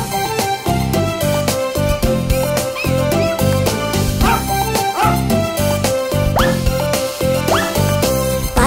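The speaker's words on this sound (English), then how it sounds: "A happy dog named Maxie came out from a nearby house" A happy cartoon dog in a children's nursery-rhyme story yips and barks over bright, busy background music, the barks short and repeated and mixed in at full volume.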